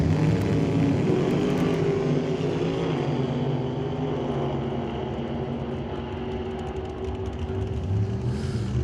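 At a drag strip, race cars run with a 648 cubic inch big block Chevrolet engine among them, a sustained loud roar with deep harmonic drone that fades slightly as they pull away, then swells again near the end.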